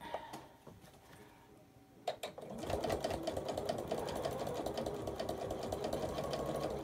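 Sewing machine stitching fabric around a curve for an apple core table runner; after a few faint clicks and taps it starts up and runs steadily, close by, with a continuous fast whirring rattle and no speech.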